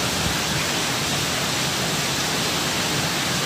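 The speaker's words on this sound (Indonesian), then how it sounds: "Oh, terus sekali anginnya tuh." Strong wind roaring through Jakarta during a storm with heavy rain and a power cut, a steady loud broadband rush that fills the whole stretch without pause.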